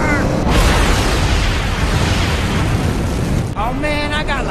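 Rocket thrusters roar in the video game Borderlands, a loud, sustained broadband blast that rumbles for several seconds before cutting off, followed by brief tonal game sounds.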